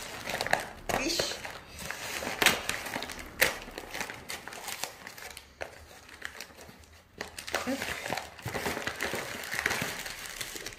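An advent calendar gift sealed with tape is peeled and unwrapped, its paper crinkling and crushing in bursts close by while someone speaks French over it.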